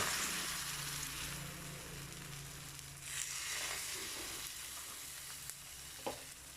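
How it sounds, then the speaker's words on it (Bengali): Flour batter for gola ruti cooks in a hot pan, giving a steady, close sizzle of frying with a faint soft scrape near the end and no voices. "পুনরায় আমরা আটার গোলা পাত্রে দিয়ে দিচ্ছি"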